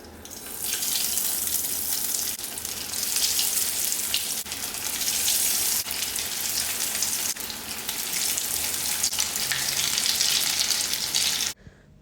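Vegetable cutlets deep or shallow frying in hot oil over medium flame, a loud continuous hiss and crackle held steady for about eleven seconds, then cutting off abruptly.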